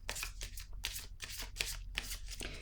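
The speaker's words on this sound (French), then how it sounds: "Ici, maintenant, je vais piger une autre carte." Tarot cards shuffled and drawn by hand: close, crisp riffling bursts repeating in a quick, uneven rhythm, with each flurry of card flicks standing out clearly.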